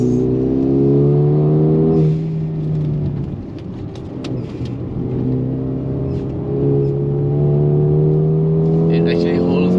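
A Mercedes GLB 35 AMG engine accelerates hard up a mountain road, a loud sustained tone rising, dipping briefly as the driver lifts for a corner, then climbing again.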